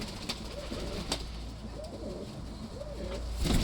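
An old pigeon coos in soft, repeated low rolling phrases, close by, over a steady background hum with no talking.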